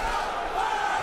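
A boxing arena crowd chants a fighter's name at a bout, a dense sustained roar of many voices at steady volume throughout the short stretch.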